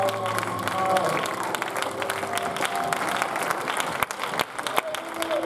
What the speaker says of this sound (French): Let's put our hands together for the one true God